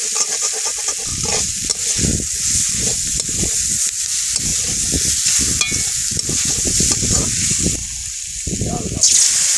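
Eggplant with garlic frying in oil in a pan, a steady bright sizzle with stirring and scraping running throughout, close and continuous.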